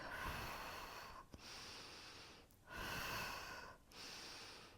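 Heavy, audible breaths in and out during a posture and core exercise, a long breathy exhale followed by a sharp inhale and another long exhale, close and loud with no talking.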